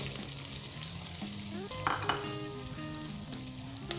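Fried onions hit hot oil with chillies and ginger already in the pan, giving a steady, fairly quiet sizzle with brief stirring scrapes and no talking.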